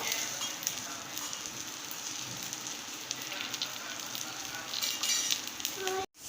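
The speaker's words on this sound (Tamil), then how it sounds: "இப்போ இதில் நம்ம சுற்றி எண்ணெய் விட்டுப்போம் ஒரு சைடு ரெடியாகி வரட்டும்" Rava dosa batter sizzles steadily in oil on a hot griddle, a continuous close crackling hiss that runs throughout with a brief dropout near the end.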